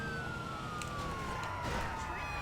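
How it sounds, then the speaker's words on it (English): An ambulance siren wails in the GTA V video game during a police pursuit, a steady sweeping tone over constant engine and road rumble, fairly distant. "We now caught up with the ambulance again."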